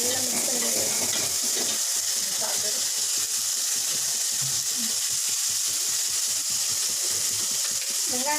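Chopped onions, tomatoes and curry leaves sizzle and fry in a pan for a fish kulambu, with repeated scraping stirs at a steady rhythm and a constant hiss, close and fairly quiet.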